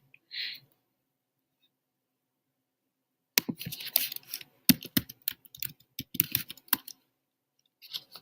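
Quiet computer keyboard typing: a lone faint click at first, then after a pause a short burst of irregular key taps, close and soft, with one last tap at the end.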